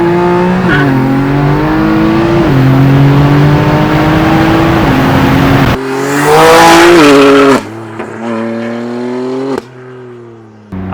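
A car accelerates hard through a roughly 40 mph pull, its engine rising loudly through the revs with a brief tire chirp, then the note drops and settles as the car eases off.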